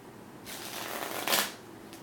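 A deck of stiff tarot cards is shuffled close by, a soft riffling burst that ends in a brief, sharper flutter.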